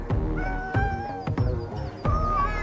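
Domestic cats on Aoshima, the cat island, meowing close by in a series of drawn-out, tonal calls, several overlapping voices with short gaps and a faint thump between them.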